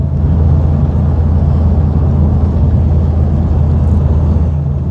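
Highway traffic on I-20 East near York, Alabama, where vehicles are being diverted at a wreck scene, forms a loud, steady low rumble of passing cars and trucks with no voices.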